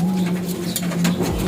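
Young pigeon fledglings give soft, low cooing calls, close by and steady, over a faint background hiss.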